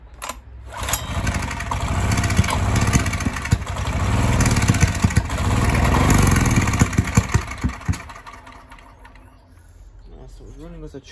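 A worn recoil starter rope is yanked repeatedly on a Honda EX1000 generator with the choke on, the small engine sputtering and revving in uneven bursts before fading back down, with a voice talking over it.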